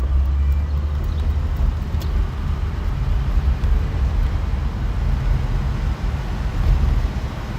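A 1949 Cadillac cruising on the freeway, a steady low engine and road rumble filling the cabin with constant wind and tire noise, no voices over it.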